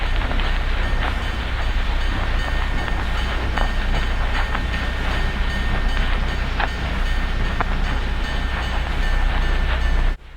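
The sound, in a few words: steam locomotive 3879 departing the yard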